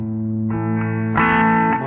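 A sustained, thick distorted tone processed in Reaper with compression and saturation, loud and steady, shifting to a brighter, denser chord partway through, with no talk.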